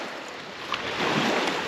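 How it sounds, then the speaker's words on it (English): Wind gusting along the shore of Murtle Lake, a steady broadband rush with lapping water mixed in, growing slightly stronger toward the end, with no voices. "I do want this wind to pass by"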